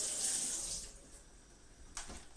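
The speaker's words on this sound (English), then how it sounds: "There it is, gotta give it a rinse." Tap water runs over a kitchen knife being rinsed under the faucet, a steady close splash that eases off, then a brief renewed gush near the end.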